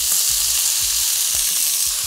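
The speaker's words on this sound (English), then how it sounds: "starting off with a couple of tablespoons of oil in a pot. Now we're gonna add our onions." Onions sizzle and fry in a couple of tablespoons of hot oil in a pot, a bright steady hiss with soft repeated stirring scrapes and no talking.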